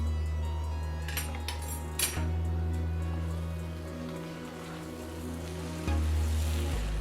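Samosa filling of spiced potato with big chunks fries in a pan, giving a steady close sizzle over a low hum with occasional stirring shifts and no voices.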